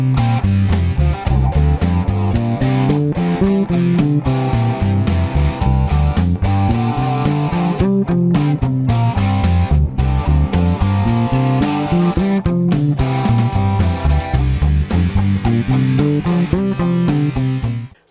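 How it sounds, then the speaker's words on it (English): Distorted electric guitar plays a scale-shape exercise over a backing track, running rapid single notes up and down in steady waves, loud and continuous without speech. "So let's play it with the backing track so you can hear it in action."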